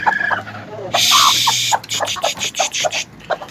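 A hen, granddaughter of a black hen, clucks nearby in a series of short, uneven calls, with one longer, louder squawking burst early on.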